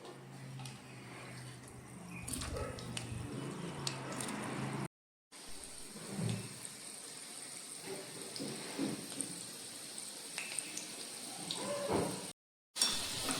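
Chicken balls deep frying in hot oil give a busy crackling sizzle with scattered pops, fairly quiet and close, broken by two brief cuts to silence.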